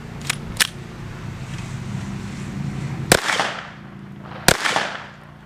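KelTec PMR 30 pistol fired at a yogurt container and a pear outdoors: two quick sharp cracks, a stretch of steady background noise, then two louder, well-spaced shots, each with a short ringing tail.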